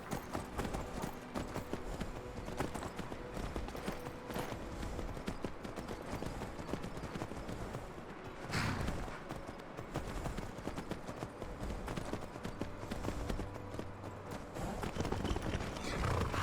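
Horse hooves clip-clop steadily in Skyrim Special Edition, a modded game, as a mount travels along beside the player, a continuous rhythmic clatter at moderate loudness with a brief louder burst midway.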